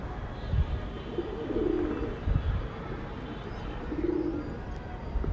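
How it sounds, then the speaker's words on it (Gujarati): Pigeons coo softly in a few low, rolling bursts, close but quiet against a steady, muffled background rumble, with no voices. "હરપાલ કબૂતર પકડવું કરે છે."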